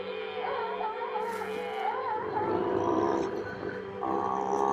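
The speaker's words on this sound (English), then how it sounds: "Seals and sea lions fight for space." Seals and sea lions fighting for space during a hake run, with a steady mass of overlapping roars, barks and grunts from many animals at close range, loud and continuous without a break.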